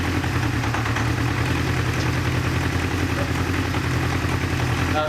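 Old-school motorcycle engine idling after its carburetors are balanced, a loud, even, close throb that runs steadily throughout with no voices.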